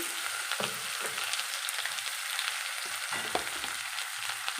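Onion, ginger and garlic paste frying in oil tempered with garam masala and cardamom, a dense continuous sizzle with a few stirring scrapes, close and steady, no speech.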